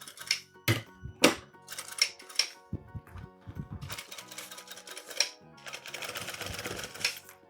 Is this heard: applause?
no